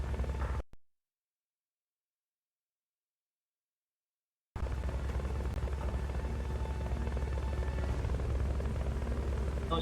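Helicopter rotor and engine drone from Metal Gear Solid: Peace Walker, a steady loud low throb that cuts out briefly near the start, then returns and holds continuously to the end.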